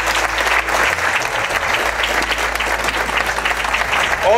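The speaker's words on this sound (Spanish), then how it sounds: "Quiero un fuerte aplauso para toda la gente que trabaja en el DIF." Loud, steady applause from a crowd at a municipal community event in Huixquilucan, honoring DIF family-services staff; dense sustained clapping fills the whole stretch without pause.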